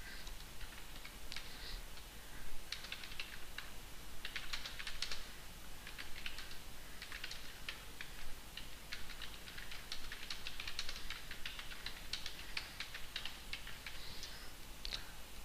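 Steady, continuous typing on a computer keyboard while entering a file description, with quick clustered key clicks running the whole time at a moderate, close level and no voices.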